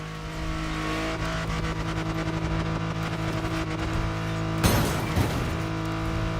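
A car engine in the video game The Crew Motorfest drones loudly at high speed while off-roading, with a steady harmonic whine, then a sudden scraping burst partway through; no voices.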